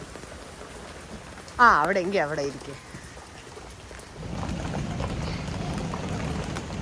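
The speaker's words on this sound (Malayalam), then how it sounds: "അവിടെ മഴയാ, നനയും" Steady rain falls on a surface, its soft broad hiss rising and continuing through the last few seconds, after a voice is heard briefly earlier.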